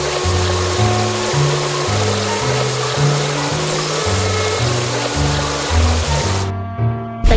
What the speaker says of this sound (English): Now rinse off the foam.